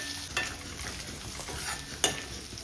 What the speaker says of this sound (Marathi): हिरव्या मिरच्या घेतल्या तेलामध्ये छान असं फ्राय करून घ्यायचं